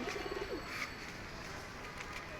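A male Giribaz pigeon coos softly in short repeated notes near the start, then goes quiet against a steady outdoor background hum.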